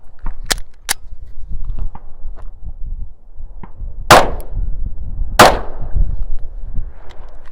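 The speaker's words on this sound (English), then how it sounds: "The plus P shot a lot flatter for some reason coming out of the Springfield" A Springfield Hellcat pistol fires +P ammunition outdoors, with two sharp shots close together early on and two louder reports a little over a second apart, separated by quieter handling and shuffling.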